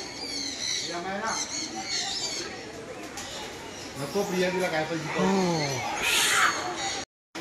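Pigeons at a fish theme park near Sawantwadi in Konkan coo softly in short rising calls, mixed in with people talking nearby.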